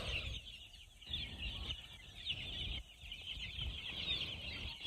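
Young chicks peep softly and cluck in a quiet morning setting, a continuous faint chorus of high, thin chirps with no talking.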